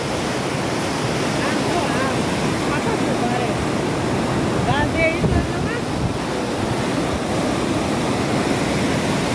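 Loud, steady rushing water roars throughout, a dense broadband wash with faint chirping and a brief murmur of voices partway through.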